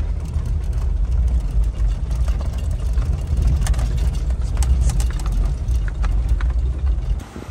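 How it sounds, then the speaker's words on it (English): An old Land Rover Discovery 2 crawls over rocky off-road ground, a loud, steady engine rumble with constant rattling and knocking from the body, close and continuous, with no talking. "No, just a rattly ride in the old disco."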